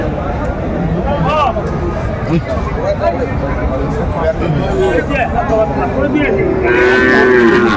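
Sahiwal cattle at a Faridpur livestock market, mooing through a busy murmur of voices, with a long, strong bellow near the end above the people talking.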